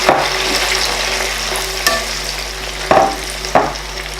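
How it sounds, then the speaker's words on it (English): Fresh tomato fries in hot oil with a continuous loud sizzle and hiss, while a few sharp clinks and scrapes of a spoon against the pan cut through near the end. "the oil is heat up. We're going to add our tomato, fresh tomato."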